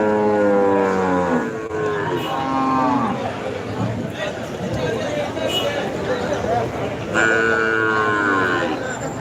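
Cattle moo loudly and repeatedly, long drawn-out calls close by, over a busy background of crowd noise and clatter at the Melur cattle market.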